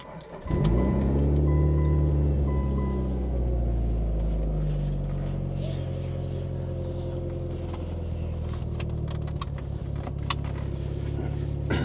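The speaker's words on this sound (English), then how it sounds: "let's go for the first real drive that isn't just on or off a trailer" An older Mitsubishi Evo 8 starting to drive off, its engine rising into a loud, close, steady drone heard from inside, with some rattling and clinks over the running motor.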